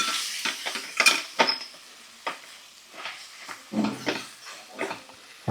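Tamarind leaf curry stirred in a pan with a spoon, producing a series of short scraping and sizzling strokes in an uneven rhythm, close and moderately loud.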